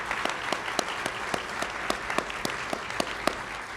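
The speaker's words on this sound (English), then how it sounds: "one last round of applause for Stu Hoffman" An audience gives a final round of applause to a guest speaker at an economics talk, a steady mass of clapping with distinct individual hand claps, fairly close.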